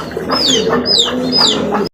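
Big light-coloured racer pigeons coo in a close, steady series of soft rolling calls, about three repeated phrases over two seconds, with no voices.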